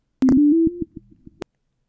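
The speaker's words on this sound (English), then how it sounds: "The output of the decimator removes the high tones and sound as follows." Pure test tones from a decimator after a sample rate decrease, with the high notes removed: a steady, loud electronic beep that steps in pitch, then several short, softer pulses that end in a click.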